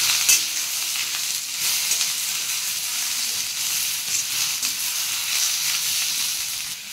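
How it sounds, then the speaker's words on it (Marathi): Tomato, ginger and garlic sauté in a pan, giving a steady bright sizzle and hiss with faint spatter and occasional light stirring, close-up and fairly loud throughout, no voices. "टोमॅटो परतून घेऊ आपण। आलं आणि लसूण ते पण परतून घ्यायचं मस्त।"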